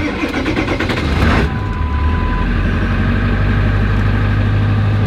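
A Ford 7.3L diesel pickup truck engine cranks briefly on a jump box, catches, and settles into a steady, rumbling idle, close and alone.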